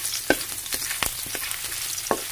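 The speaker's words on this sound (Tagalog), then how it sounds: "ilagay na natin ang ating luya guys" Ginger sautés in a hot pan for Visayan fish escabeche, a steady soft sizzle with a few sharp stirring clinks, no talk.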